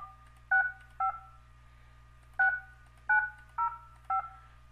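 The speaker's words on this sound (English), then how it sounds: "you basically just dial and it will start ringing" Phone dialing tones in a calling app, six distinct DTMF beeps at an uneven pace over a steady low hum, clear and close, with no speech.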